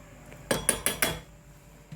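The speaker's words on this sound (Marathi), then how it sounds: "चवीनुसार मीठ टाकायचं आहे." A metal spoon taps the rim of a pot four times in quick succession while salt is added to village-style masala rice pulao, sharp close clinks with quiet between.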